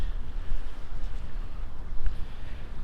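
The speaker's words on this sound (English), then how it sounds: "I don't know if this wind is crazy or I'm crazy being out here." Gusty wind of about 20 mph sweeping over a whitecapped lake, heard from a fishing boat, a low rumbling buffeting at the microphone with faint water wash, moderate and unbroken.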